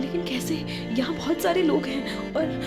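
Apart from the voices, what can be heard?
None of the usual background noises is heard.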